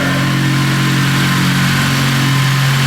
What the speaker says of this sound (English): let me hear that exhaust. This thing sounds good.